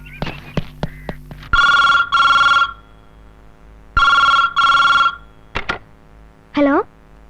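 An indoor telephone rings loudly in two paired bursts of bell-like tones, with scattered knocks, clicks and a brief voice-like sound between and after the rings.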